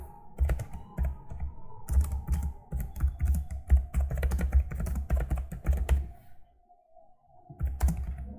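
Fingers tap out text on a computer keyboard in quick, irregular bursts of clicks, close and clear, with a brief pause before typing resumes.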